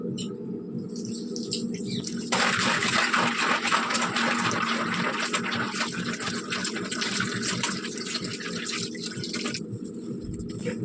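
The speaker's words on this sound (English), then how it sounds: "So now I'm going to rinse it using this tap water." Tap water runs steadily to rinse mahua flowers, a continuous splashing rush that grows fuller partway through and then thins out near the end.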